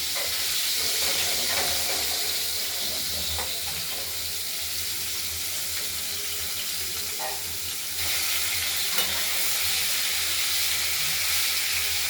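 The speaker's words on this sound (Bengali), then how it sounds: "ভেজে নিই মাছটাকে, তারপর দেখাবো।" Pieces of boal fish fry in a pan with a constant, close, hissing sizzle that stays loud and steady throughout, with faint scraping clinks here and there.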